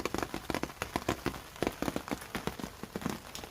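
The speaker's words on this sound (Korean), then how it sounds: "지금 비가 많이 오고 있어요." Heavy rain falls steadily in March in Korea, a dense pattering of drops striking a hard surface, moderately close and uninterrupted.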